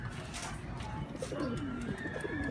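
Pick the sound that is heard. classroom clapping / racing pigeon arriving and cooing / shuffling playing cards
racing pigeon arriving and cooing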